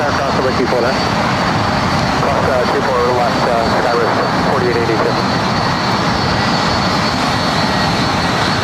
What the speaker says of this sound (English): Next arrival is Delta Airlines Flight 2114 coming in from Minneapolis on a brand new A321 Neo